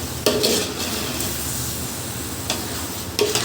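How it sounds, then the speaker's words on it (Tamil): Chicken pieces sautéing over a high flame for Andhra-style gongura chicken biryani make a continuous sizzle, with a few sharp spoon-on-pan clinks scattered through it. "சிக்கன் சேர்த்து ஒரு 3 மினிட்ஸ் போல் ஹை ஃப்ளேமில் நல்லா வதக்கிக்கலாம்"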